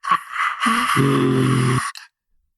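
A voice imitates a strained, drawn-out scream: a short breathy burst, then a sustained, loud, harmonic wail lasting about a second before cutting off.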